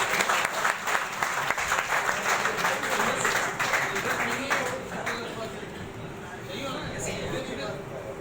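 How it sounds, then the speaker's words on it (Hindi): Steady applause from an audience welcoming a guest on stage, dense and continuous at first, then gradually thinning and softening toward the end. "भरपूर तालियों में इनका इस्तकबाल कीजिए"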